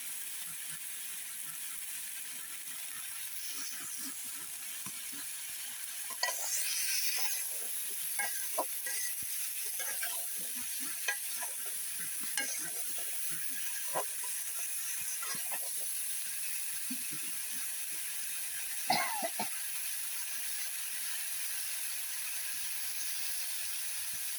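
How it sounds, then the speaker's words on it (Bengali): Vegetables with chili and turmeric powder fry softly in a pan under a steady hiss, with scattered clicks and scrapes of a spatula stirring at intervals. "এখন এই সব মশলা একসাথে মিশিয়ে ভালোভাবে সবজিটা কষিয়ে নিবে"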